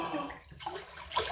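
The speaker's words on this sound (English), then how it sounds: "Right, I'm going to rinse the face now." Cold water splashes and runs at a bathroom sink as a face is rinsed after a menthol shave, a steady close wash of water with a brief lull and then a louder burst of splashing.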